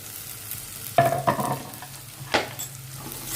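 Tomatoes frying in a pan for prawn thokku, with a soft background sizzle broken by a few close stirring scrapes around the middle and a final scrape near the end; no one speaks.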